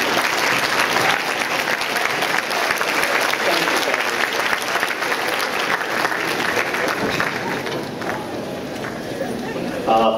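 An audience at a high school awards assembly claps for the parents, dense sustained applause that fills the room for about ten seconds, then thins slightly near the end.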